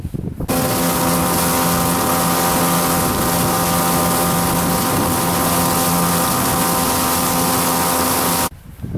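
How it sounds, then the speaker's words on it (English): A boat motor runs loud and steady up close on water in Alaska, a constant droning hum with water rushing beneath it, cutting off at the end. "The boat is running fantastic"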